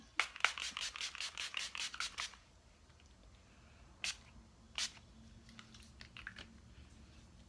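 A quick series of sharp spritzing bursts from a makeup setting spray, about eight in a row, followed by a couple of isolated sprays amid soft handling noises.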